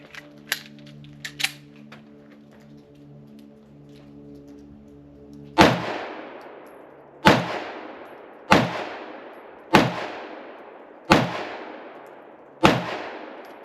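Six sharp gunshots from a Canik Mete MC9 9mm pistol fired into gel, evenly spaced about every one to one and a half seconds, loud and close with ringing decay, after a few faint clicks and a low hum.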